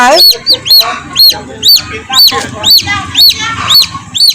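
A chicken clucks loudly and close by in a quick repeating run of sharp calls, with no talk over it.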